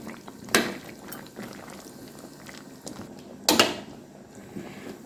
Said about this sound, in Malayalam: അപ്പോൾ അതിനുശേഷം നമുക്കിതൊന്ന് ഇളക്കി കൊടുക്കാം